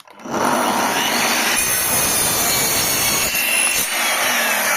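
A power saw cuts a 45-degree angle through wood, with a loud continuous whine and grinding rasp that runs unbroken for several seconds after a quick spin-up, close and alone.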